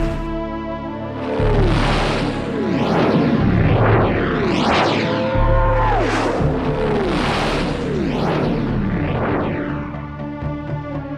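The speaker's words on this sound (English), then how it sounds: "There's been an explosion in the vicinity of Spacehawk." A sustained, loud rumbling blast with repeated swooping, warbling tones and booming bursts, a sci-fi explosion from the audio drama Terrahawks with electronic effects layered over it.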